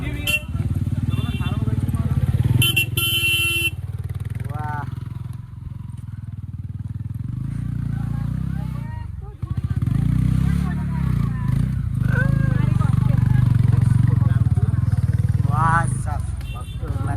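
Motorcycles rumble past on a rough road, a continuous loud engine drone that swells and fades as bikes go by, with people talking over it throughout.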